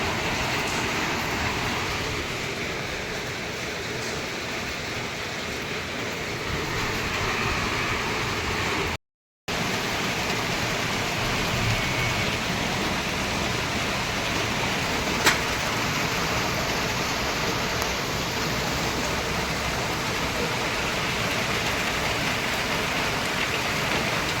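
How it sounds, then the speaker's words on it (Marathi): Heavy rain pours down steadily in a dense, broad hiss, loud and continuous throughout, with a brief dropout partway through. "परत मंगळवारी सुद्धा बघा किती जोराचा पाऊस आलाय"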